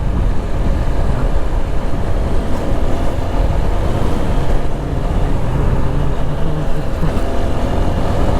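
Loud, steady engine and wind roar from a motorbike ridden along a road toward a college, a continuous rumble with no pauses or talk.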